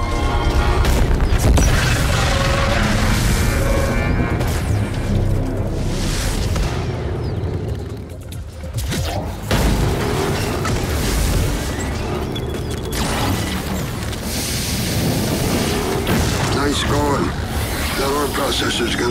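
Weapon fire and heavy explosions in Starlink: Battle for Atlas boom and crash repeatedly, loud and dense, with a brief lull midway, under a voice talking.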